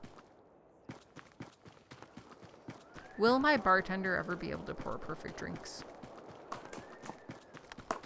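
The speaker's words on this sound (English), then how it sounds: "Why do I hear a horse stomping around?" Horse hooves clip-clop in a tavern video game, a steady run of light, distinct hoof strikes throughout, with a person talking over the middle of it.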